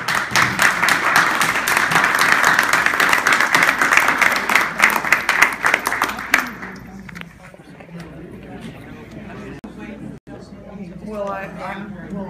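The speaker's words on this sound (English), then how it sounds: "a round of applause for our candidates" A loud crowd gives a round of applause for the candidates at a county candidate debate forum. Dense clapping fills the first six seconds, then breaks off into murmurs, shuffling and a voice starting to speak.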